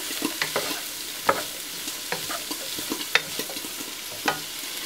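Black beans for jajangmyeon sauce sizzle in a hot pan while a utensil stirs them, with irregular scraping taps over a soft, continuous frying hiss.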